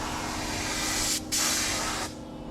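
Satin black spray paint hissing from a spray gun onto Mercedes-Benz Unimog expedition truck parts, a loud, close, continuous spray with one brief pause before resuming.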